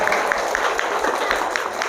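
Audience at a Quran memorization (tahfizh) graduation ceremony applauding, a brief burst of many hands clapping at close range, dense and even throughout.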